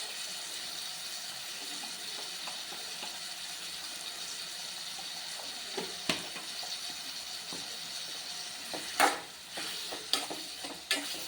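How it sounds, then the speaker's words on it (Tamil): Steady sizzling from a hot pan sautéing with salt and turmeric, with occasional scraping clicks of a utensil stirring, growing busier toward the end. "அப்படியே வதங்கட்டும்"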